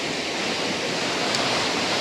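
Flooded river water rushing after heavy rain at a washed-out bridge in Hinaguan, a steady loud broadband roar with no breaks and no voices.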